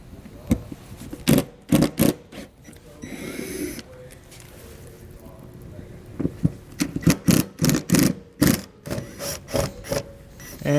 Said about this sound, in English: So we're going to remove all the screws here from the outside.